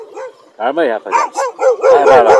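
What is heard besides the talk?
pack of dogs barking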